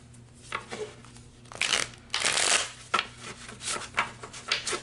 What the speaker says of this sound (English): I still have the cards here, so I'm going to continue shuffling